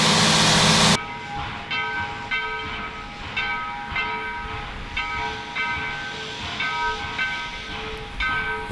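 Restored Nevada Northern Railway steam locomotive No. 81, a 1917 ore-hauling engine back in service after retiring in 1958, sits nearby with a steady mechanical hum, repeated bell-like tones and intermittent clanks after a brief loud burst at the start.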